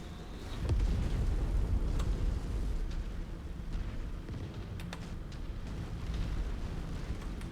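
A destroyed mech explodes in MechWarrior 5 with a deep, sustained rumbling boom that holds loud and roiling for several seconds, sharp crackles popping through the low roar.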